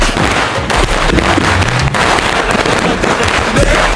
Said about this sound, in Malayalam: മലപ്പുറത്തെ ഗുണ്ട് തുടങ്ങിയ മക്കളെ